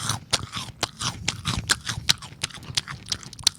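Crunchy snack chewed close to the microphone, a run of sharp, irregular crunches and bites repeating over a few seconds with no talk.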